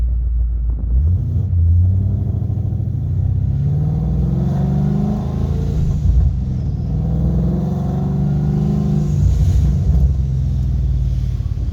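A supercharged Ford Mustang S197 with an MT82 manual gearbox accelerates hard, its loud, close engine drone rising in pitch over a deep rumble, with a supercharger whine layered on top and no voices.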